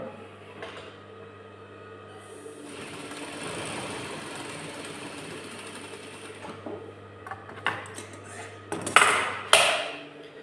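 A domestic sewing machine runs in a sustained stitching burst, goes quiet, then gives a few short bursts with metallic clicks and clatter near the end.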